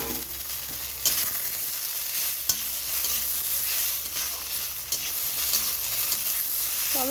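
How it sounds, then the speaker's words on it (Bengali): Onion, chopped tomato and spices fry in a pan for a prawn and jackfruit curry, a steady sizzle broken by the scrape and clatter of a spatula stirring at irregular intervals. "টমেটোটাও মশলার সঙ্গে ভেজে নেওয়া হচ্ছে"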